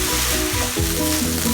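Fried rice stir-fried in a pan on high flame gives a loud, close, continuous sizzle, with stirring scrapes layered over a low rumble.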